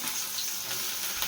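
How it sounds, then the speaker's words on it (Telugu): Onions frying in hot oil in a pan for restaurant-style palak paneer, a steady broadband sizzle with no voices. "ఆ హీట్ అయిన ఆయిల్లో కొద్దిగా ఉల్లిపాయలు"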